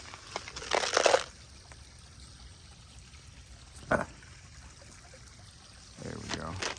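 Water poured and trickling into a koi pond near a waterfall, a few short splashing bursts over a steady faint outdoor wash.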